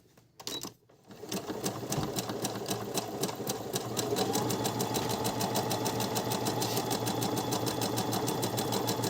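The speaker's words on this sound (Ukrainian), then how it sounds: "Такий матеріал спробую пошити." A repaired Brother ML-750 sewing machine starts up and stitches fabric in a fast, steady mechanical rattle that builds to full speed and holds, running alone and close.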